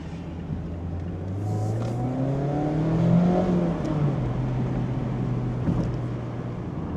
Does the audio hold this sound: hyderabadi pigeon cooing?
no